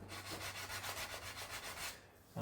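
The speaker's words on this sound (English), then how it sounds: "I'm actually sanding down the binding and making the binding flush with the veneer" Sandpaper rubbing steadily over guitar binding and wood veneer on a Les Paul kit body, a close, rhythmic back-and-forth scratching with even strokes, ending in a brief louder scrape.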